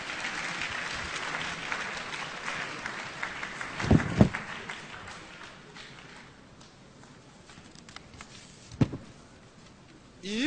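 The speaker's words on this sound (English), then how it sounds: "Let's give him a traditional round of applause." An audience at a Mountain Top University matriculation lecture gives a round of applause, dense and lively at first, then thinning and fading, with a few loud thumps along the way.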